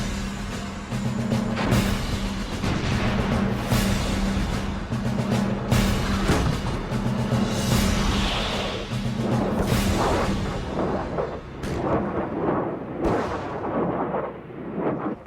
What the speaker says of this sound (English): One of their key weapons was the multiple launch rocket system.